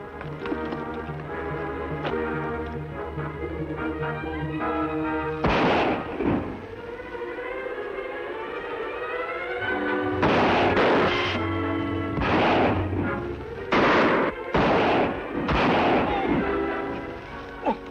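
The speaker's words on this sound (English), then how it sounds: "I'll fire to keep them back" Gunfire in a Western shootout from The Lone Ranger: after a stretch of background music, loud, close gunshots ring out in several separate bursts, some doubled, with short gaps between them.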